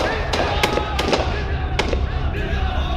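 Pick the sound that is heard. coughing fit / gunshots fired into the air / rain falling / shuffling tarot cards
gunshots fired into the air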